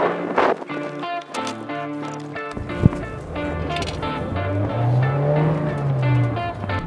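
A Toyota Yaris GRMN drives on the Castelloli race circuit, its engine note rising and shifting through gears with a steady close roar, a brief sharp knock partway through.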